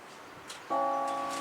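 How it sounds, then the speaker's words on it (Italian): The largest church bell at Badoere sounds a single loud strike partway through, then rings on with a sustained, humming tone. "Adesso sentiamo un po' i tocchi solamente delle due maggiori"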